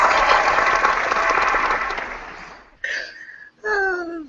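Applause from a single person or small group, steady and fairly loud for about two and a half seconds, then fading out, followed by short bursts of voice.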